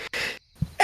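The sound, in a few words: sneeze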